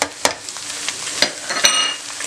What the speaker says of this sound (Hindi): अब इसमें 1 मिनट तक मैंने फ्राई किया लहसुन डाल के